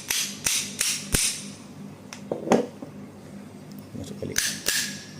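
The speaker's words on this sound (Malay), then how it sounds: "kau bolehlah ketuk tap slow-slow sampai dia tercabut" Sharp metallic hammer taps knock loose the CVT auto clutch on a Zontes 350/368 motorcycle, a few close loud strikes in an uneven rhythm with quieter handling noise between them and brief speech.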